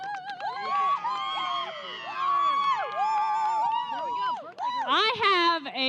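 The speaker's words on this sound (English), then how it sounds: "I have a really loud crowd over here" A loud crowd at a masonry competition cheers and whoops, with many excited voices shouting and overlapping close by in continuous bursts.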